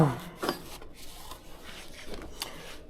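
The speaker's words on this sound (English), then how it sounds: "Remove the old seal." Scraping and rubbing while prying an old seal out of a Mercedes Sprinter brake caliper, a few short, close rasping strokes at irregular intervals over quiet background.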